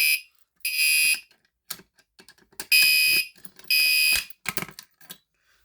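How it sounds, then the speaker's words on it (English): Smoke alarms sound during a fire alarm system test, giving loud, shrill beeping bursts in an irregular pattern with clicks and clatter between them, close and with no talking. "let's go ahead to activate the smoke alarms now"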